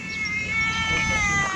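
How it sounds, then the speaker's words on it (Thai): A cat gives a loud, drawn-out meow close by, a single sustained wavering cry outdoors near grass at a rural home. "นี่แมวเมียว"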